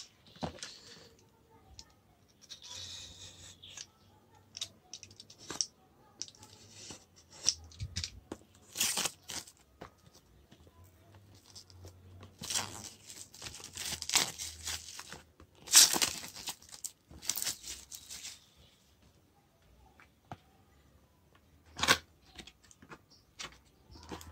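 A TP-Link TL-WA850RE Wi-Fi repeater being unboxed, with close scattered rustling, crinkling of packaging and cardboard, and sharp tearing and clicking bursts in an uneven rhythm across a quiet room.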